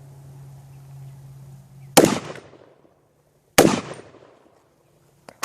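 Two sharp, loud gunshots from a 300 Blackout AR rifle firing low-energy rounds crack out about a second and a half apart, each with a quick echoing decay, after a low steady hum.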